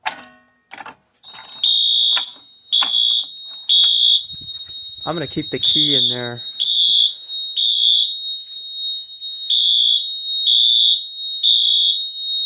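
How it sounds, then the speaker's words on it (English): An SK 4224 fire alarm sounds after a pull station is triggered: loud, evenly spaced high-pitched electronic beeps repeat in a steady temporal pattern, with someone speaking briefly at the start and a short voice-like burst midway. "And that is the fire alarm."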